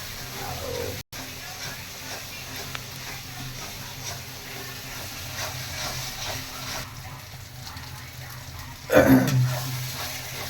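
Masala of dried red chilli, cumin, coriander powder, ginger, garlic and onions sizzles in a pan for bhakura fish curry, a steady low hiss throughout with a brief louder clatter near the end.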